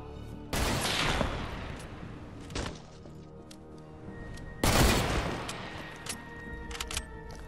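Gunfire in the video game Fortnite comes as two loud, dense bursts of rapid shots a few seconds apart, with a single crack between them and a faint game ambience underneath.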